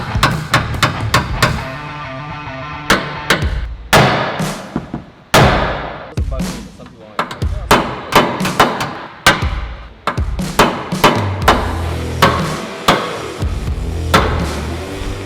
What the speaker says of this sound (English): we're gonna create some separation between the factory bump stop and the frame by using our chisel and our hammer again